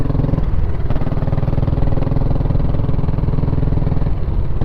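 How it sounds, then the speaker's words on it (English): An old motorcycle engine rumbles loud and close in Westminster, Maryland, with a steady throbbing idle and a slight clattering edge throughout. "And you can see it starts up and it rides."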